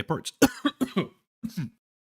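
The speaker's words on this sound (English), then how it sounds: "a little bit of a cough there" A short burst of throaty coughs and throat clearing, several quick rough hacks close up, followed by a brief pause and two more.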